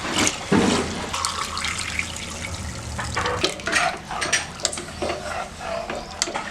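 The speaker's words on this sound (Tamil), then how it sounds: "அப்போ 3 டம்ளர் தண்ணி ஊற்றிக்குவோங்க." Three tumblers of water are poured into a rice and tomato mixture in a cooker for tomato rice, giving splashy, gurgling bursts of pouring close by with brief pauses between them.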